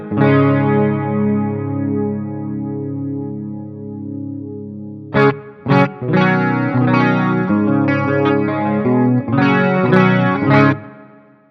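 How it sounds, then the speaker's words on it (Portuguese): Electric guitar played through a Matribox 2 Pro multi-effects unit set to hall reverb: a sustained chord rings out and decays slowly, then a run of plucked notes and chords follows, each leaving a long, spacious reverb tail. "Mas para usar assim de forma mais versátil, o reverb hall é uma boa pedida."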